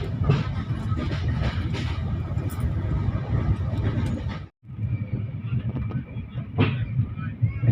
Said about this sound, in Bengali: আমাদের ট্রেন এখন প্রবেশ করছে গুমানি স্টেশন পার করে বনিডাঙ্গার দিকে যেতে